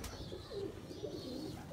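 Naflan pigeons coo softly on a rooftop loft, several low, wavering coos rising and falling in quick succession, faint and close, with no talking.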